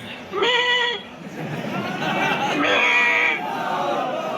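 A goat bleats loudly in a wavering, drawn-out call, then bleats twice more in longer quavering cries, close by over a noisy crowd background.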